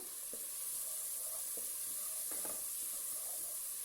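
Ground dried coriander fries with frozen tinda in a pan, giving a steady, close hiss of sizzling with a few soft stirring knocks scattered through it.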